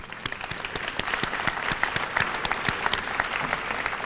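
Sustained applause from an audience honoring students at a 1993 high school senior academic recognition ceremony, a full, even patter of many hands clapping throughout.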